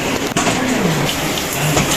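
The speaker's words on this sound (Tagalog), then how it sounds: "Paskong Pasko, 2024, umuulan." Steady rain falls on a rainy Christmas Day in 2024, making a dense, continuous hiss close by for a couple of seconds, with no voices.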